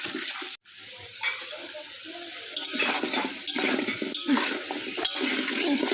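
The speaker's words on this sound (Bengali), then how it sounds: "আগে আলু ভেজে নিব" Potatoes frying in hot oil in a home kitchen ahead of making biryani, a steady close sizzle with occasional stirring and pan clatter throughout, no talking.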